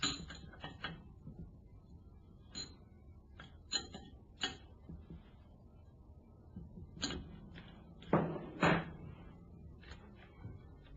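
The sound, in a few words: tightening screws fixing an actuator to a valve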